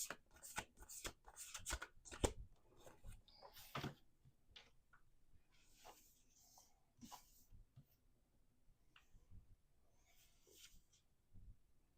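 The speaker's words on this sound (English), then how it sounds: "We're going to do 2 more shuffles" Tarot cards shuffle in quick, crisp riffling bursts close to the microphone, busiest early on and then thinning to scattered soft taps and slides.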